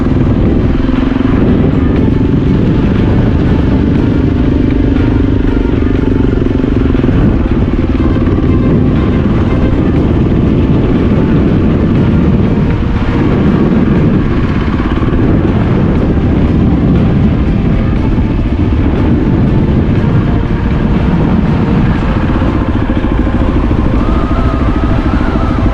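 Motorcycle engine rumbling steadily while strong mountain wind buffets the microphone near Punta La Marmora, Sardinia, a loud continuous roar with no talking.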